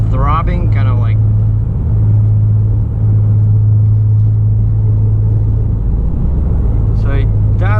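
A 2017 Ford Mustang fitted with a Hypertech performance tuner cruising at about 120 km/h gives a steady, loud low throbbing drone inside the cabin, with someone talking briefly at the start and end.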